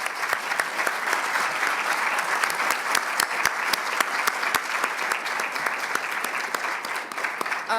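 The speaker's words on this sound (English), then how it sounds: "Please join me in giving a big round of applause to this remarkable panel." An audience applauds a panel at the close of a conference discussion on taxes to prevent noncommunicable diseases, with sustained, dense clapping of many hands filling the room for several seconds, with no talk over it.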